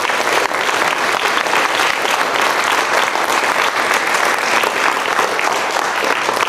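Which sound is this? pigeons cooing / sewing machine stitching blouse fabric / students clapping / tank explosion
students clapping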